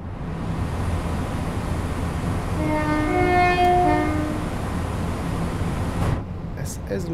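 CrossCountry Class 170 diesel unit from Train Sim World 4 on the Midland Main Line runs with a steady loud rumble, and a two-tone horn sounds in the middle before the noise drops off near the end.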